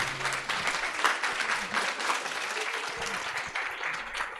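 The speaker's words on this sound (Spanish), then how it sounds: "Un aplauso, por favor" An audience claps in sustained, dense applause after a lecture on health, close and fairly loud, fading slightly toward the end.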